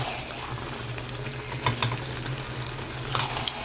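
Fried pakoras being stirred into chili chicken in a pan produce a steady sizzle and bubbling, with occasional scraping taps of the spoon against the pan and no voices.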